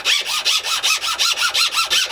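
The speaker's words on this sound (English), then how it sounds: "just filing down on it a little bit at a time, trying to do it evenly on both sides" A hand file clamped in a vise shapes a ukulele bridge plate with steady back-and-forth rasping strokes, about nine even scrapes in quick rhythm, close and clear.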